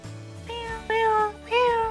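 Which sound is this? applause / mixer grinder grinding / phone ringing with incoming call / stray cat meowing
stray cat meowing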